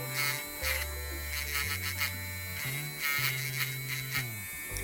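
A Touch Beauty battery-powered electric nail file buzzes steadily up close, its faint motor tone shifting pitch several times as it is pressed against nails.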